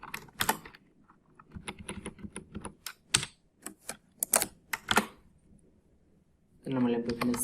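Irregular keystrokes clatter on a computer keyboard as code is typed into Dev C++, close and crisp with short pauses between clusters, and a voice speaks near the end.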